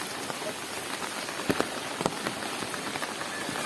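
Steady rain falls on a surface outdoors, a dense continuous patter with a few louder individual drops standing out, no voices.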